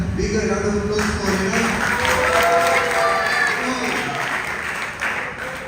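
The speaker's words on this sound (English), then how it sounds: "So can I get a bigger round of applause for" Audience applause at a Gita Jayanti festival gathering in a temple hall, a steady wash of clapping from a crowd lasting throughout, with a voice speaking over it.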